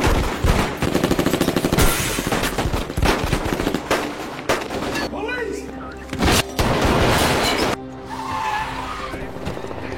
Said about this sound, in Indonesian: Namun gangster lainnya muncul dan aksi tembak-tembakan terjadi